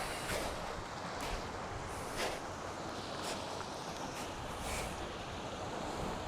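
Waves washing onto a small sandstone beach on Vancouver Island: a continuous, hissing surf with soft swells breaking every second or so, mixed with wind rumble on the microphone.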